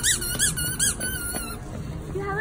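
A squeaky toy is squeezed again and again, giving a run of rapid, loud, high squeaks, first quickly and then in slower, drawn-out squeals.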